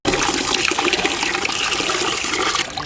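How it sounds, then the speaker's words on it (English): Water gushes and pours steadily into a pot holding a turkey, a loud continuous splashing rush that cuts off near the end. "Pour some water in here until it covers the turkey."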